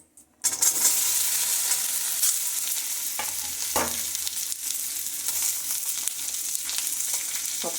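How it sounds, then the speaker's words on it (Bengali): Vegetables hit hot oil tempered with whole cumin and bay leaf for a chicken and palta leaf dalna, bursting into a loud, steady, close sizzle that holds with faint stirring crackles throughout. "সবজিগুলো দিয়ে একটু ভেজে নেব"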